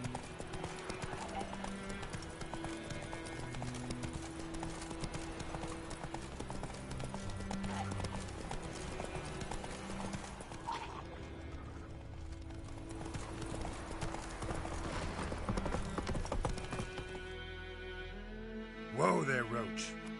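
Roach, Geralt's horse in The Witcher 3, clip-clops steadily at a walk over a layer of game music and ambience, with a brief whinny near the end.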